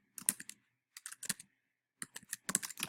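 Fingers type on a computer keyboard in three short bursts of rapid clicking separated by brief pauses, close and clear in a quiet room.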